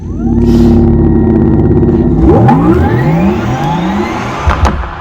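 A loud Porsche Taycan electric car whirs, its synthetic tone sweeping upward in pitch as it accelerates, layered hums rising together, with a few sharp clicks near the end.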